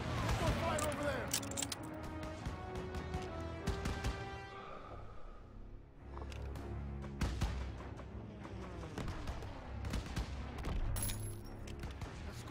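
Covering fire in the Call of Duty: WWII mission Stronghold: bursts of rifle and machine-gun shots crackle near and far over battle noise, while soldiers shout orders over the fighting.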